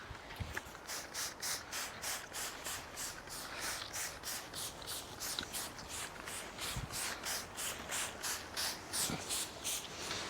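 Rhythmic scrubbing and brushing as cleaner is worked into camping gear fabric, with steady back-and-forth strokes at a regular pace, close and fairly quiet, plus a few light knocks.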